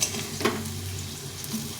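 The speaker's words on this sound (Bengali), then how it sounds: "মাছের তেলের মধ্যে আমি আলুটাকে ভেজে নিই" Large pieces of potato fry in fish oil with salt and turmeric, a soft close sizzle broken by a brief stirring scrape and clink.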